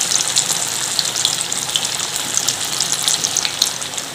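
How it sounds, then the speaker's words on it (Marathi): Taro leaf rolls (alu vadi) deep frying in hot oil, giving a steady, bright crackling sizzle with dense popping bubbles that runs continuously and close throughout, with no voices. "तर मी इथे डीप फ्राय करून घेणार आहे हे."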